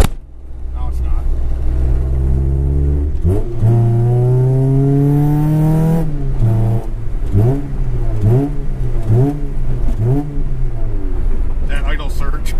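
A Honda CRX engine with an idle surge revs up and falls repeatedly, pitch swooping in surges near the microphone, with a few brief clicks at the end.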